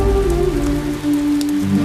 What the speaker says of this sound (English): and the skies weep with rain.